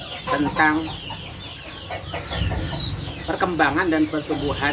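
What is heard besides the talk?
sentul kampung chickens clucking on a farm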